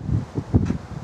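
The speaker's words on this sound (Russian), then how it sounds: "Сверху сильный ветер." Strong wind buffets a microphone at rooftop height on scaffolding around a chimney, giving short, loud rumbling gusts in quick succession.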